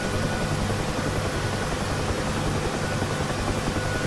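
UH-1H Huey helicopter hovering during a pickup in the DCS flight simulator, a steady, loud rotor and turbine roar with a dense broadband wash that holds evenly throughout, with no talk over it.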